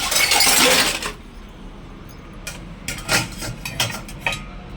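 Dishes and pots clinking as they are set into the racks of a Bosch dishwasher, a dense burst of clatter at first, then scattered sharp clinks after a quieter pause.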